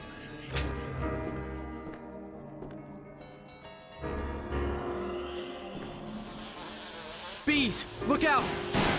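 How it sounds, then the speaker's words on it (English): Bees swarm in Resident Evil: The Umbrella Chronicles, a shrill insect drone rising and falling amid game effects and music, with a voice briefly heard. "Bees! Look out!"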